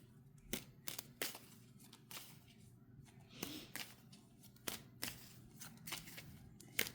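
Tarot cards are shuffled by hand in quiet, a run of soft irregular riffling slaps and flicks spaced unevenly over several seconds, close and fairly faint.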